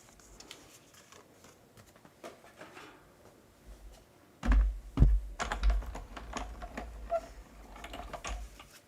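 A Stampin' Cut and Emboss machine feeding paper through, giving a run of mechanical clicks and grinding rumbles that swell loudest midway through the pass, close up with no talk.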